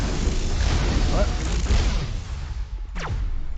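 Explosions and artillery fire in Mass Effect roll as a dense, continuous, loud rumble, with a short whooshing sweep near the end.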